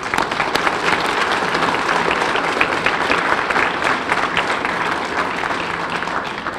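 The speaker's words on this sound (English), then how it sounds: "Please give a round of applause." An audience at a memorial event for a Massachusetts National Guard sergeant gives dense, continuous applause. The clapping holds at a steady, loud level for the whole stretch.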